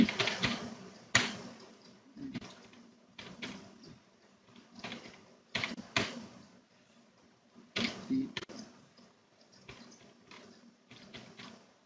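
Irregular clicks and taps of typing on a computer keyboard while entering dates into a spreadsheet, coming in short bursts with pauses, fairly close and moderately loud.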